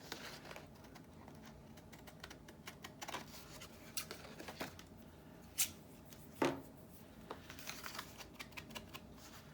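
Paper for craft souvenir ticket books is trimmed in quiet, scattered snips and light crisp rustles, with a couple of sharper cuts standing out against a faint background.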